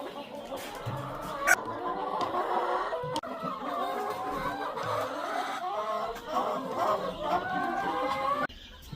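Hens clucking inside a farm chicken coop, several birds making overlapping, warbling clucks and murmurs in a continuous close chatter, with a sharper squawk now and then.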